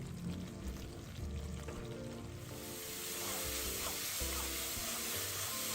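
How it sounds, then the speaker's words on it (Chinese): Ginger, scallion and garlic paste hits hot cooking oil over low heat in a wok, giving a steady close sizzle and crackle that swells after a few seconds and holds, with a low hum underneath. "油熱後再將預先備好的薑蔥蒜泥倒入，低火爆香。"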